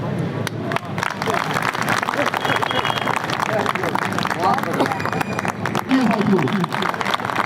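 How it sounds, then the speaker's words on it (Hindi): Crowd applause at a university protest sit-in outside Delhi University's main gate, dense clapping sustained throughout, with talk and crowd babble mixed in. "और मैं इसी तालियों की गड़गड़ाहट के बीच में प्रधान जी को आमंत्रित करना चाहता हूं"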